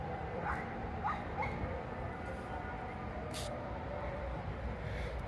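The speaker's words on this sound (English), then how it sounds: "Lots of wild dogs in here." Wild dogs bark and yip several times, faint and distant, under a constant outdoor wash of traffic and wind near the old Constantinople city walls in Istanbul.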